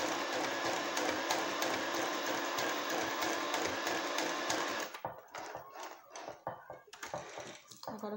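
An Incasa Compacta sewing machine stitches fabric in a fast, steady mechanical whir for about five seconds, then stops, followed by quieter clicks and handling noises.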